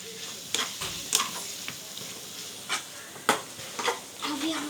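A spoon stirs chopped coriander into a sizzling curry in a pan, with scrapes and clinks scattered over a steady frying hiss and faint voices in the background.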